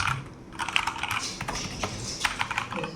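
Keys clacking on a MageGee membrane gaming keyboard, a steady run of close, fairly loud taps with no talk over them.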